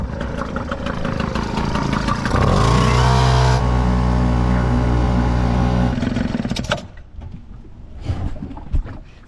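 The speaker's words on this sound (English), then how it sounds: "Outboard is so loud." A 3 horsepower Kingfisher outboard motor runs loudly on a small sailboat, a steady droning engine hum with a rise in pitch and strain midway before it drops back, then cuts to quieter ambient noise.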